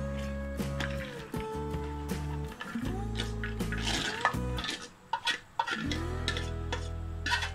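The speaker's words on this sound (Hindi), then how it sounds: "फिर जो मैंने दाल धो के भिगो के रखी थी, हम इसी पानी के साथ में उसको इस तरीके से ऐड कर देंगे।" Soaked chana dal is tipped into a cooking pot together with its soaking water, giving a brief wet pour and splash heard under steady background music.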